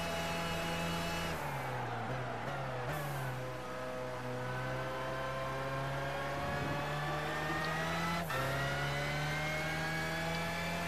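A 1997 BMW McLaren F1 GTR race car in Gran Turismo 5 holds a loud, sustained engine drone at high revs. The pitch dips briefly during gear changes and then climbs again, with no talking.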